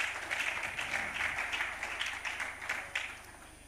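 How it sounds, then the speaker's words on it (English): An audience at a conference claps together, a dense, fairly quiet patter of hands that gradually fades over a few seconds. "let's clap for ourselves"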